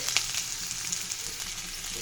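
Garlic, onion and green chilies fry in hot oil with dried red chilies already in the pan, giving a steady, close broadband sizzle with small crackles throughout and no talking.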